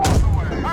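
An M60A3 tank cannon fires in the tank simulator Gunner HEAT PC, one loud, close blast with a rumbling tail.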